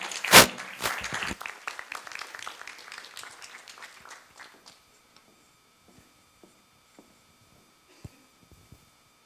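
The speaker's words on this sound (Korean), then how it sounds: "박수로 맞아주시기 바랍니다" An audience at a university business school startup event claps to welcome a company CEO, starting with a loud burst that quickly decays into scattered, fading claps and a few isolated taps.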